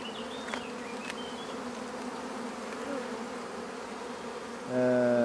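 A swarm of honeybees buzzes steadily while being put into hives by beekeepers, a dense continuous drone with individual bees whining past close by, and a louder nearby buzz rising near the end.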